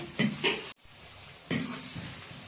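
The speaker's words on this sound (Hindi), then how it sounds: "अब प्याज को अच्छे तरह से पकने देंगे।" Onions cooking with salt in a pan give a soft sizzle and spoon stirring, with a short clatter, a brief pause, then the frying hiss picking up again.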